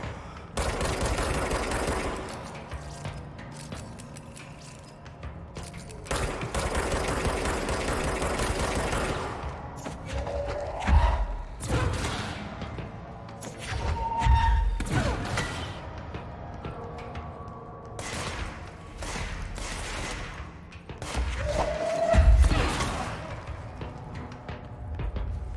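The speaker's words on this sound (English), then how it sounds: "you gotta shoot these dudes" Gunfire crackles while enemies are shot in the video game Control. Repeated bursts and rapid volleys come at irregular intervals, loud and sharp, with short lulls between clusters of shots.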